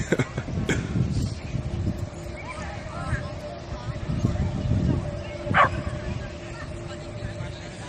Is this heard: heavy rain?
no